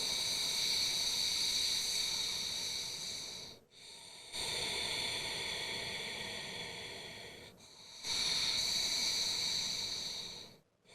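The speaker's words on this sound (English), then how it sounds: "So this technique is almost like snoring," A person breathes through the nose with the mouth closed, making a snore-like, hissing rasp. There are three long, steady breaths separated by brief pauses, heard close and fairly soft, with no talk.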